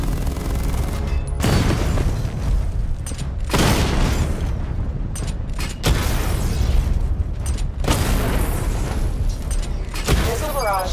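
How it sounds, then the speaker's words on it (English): Missile barrage explosions in Batman: Arkham Knight, loud booming blasts arriving in waves with mechanical whirs between them, while a voice talks over the action. "Destroy targets to charge up weapon energy and activate missile barrage"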